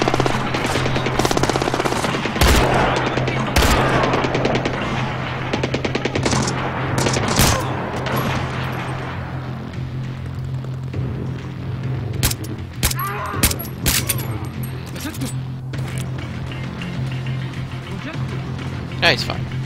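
Rapid gunfire in the video game Splinter Cell Blacklist during co-op play, dense bursts and sharp shots early that thin out later, mixed with players talking.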